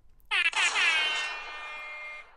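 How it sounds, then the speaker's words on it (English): A loud, blaring air horn sounds as a single sustained blast of about two seconds, tapering off at the end, with nothing else heard around it. "I heard the klaxon"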